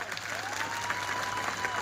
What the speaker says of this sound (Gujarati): જોરદાર તાળીઓનો ગડગડાટ થઈ જાય